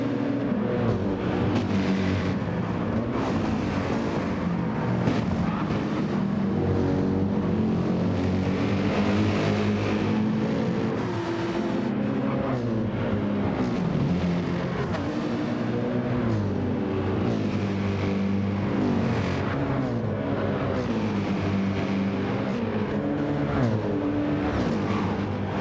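Race car engines howl around Mount Panorama at Bathurst in Gran Turismo 7, a continuous loud roar with rising and falling pitch as cars accelerate, shift and chase a Porsche, with no talking.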